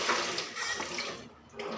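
Dishes washed under a running tap, a continuous close splashing hiss of water that briefly eases near the end.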